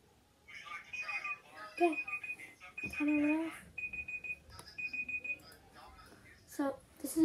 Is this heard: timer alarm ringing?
yes